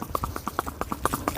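A Sindhi mare walks in a lively gait, her hooves clip-clopping in a quick, regular rhythm of sharp, close knocks with no voices over them.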